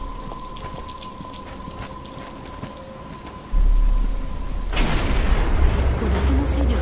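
In Batman: Arkham Asylum, rain starts up as a steady hiss that swells suddenly into a loud, dense downpour with a deep rumbling thunder-like boom beneath it, alone without voices.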